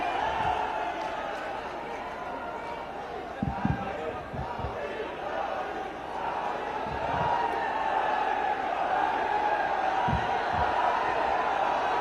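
A large outdoor crowd at a government project inauguration event in Kaushambi applauds and cheers steadily, a dense continuous wash of clapping and voices with a few louder thumps.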